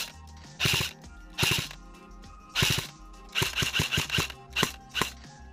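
An airsoft AKS-74u fired outdoors in short bursts, each a rapid mechanical rattle of shots, several spaced bursts in a row, close and fairly loud.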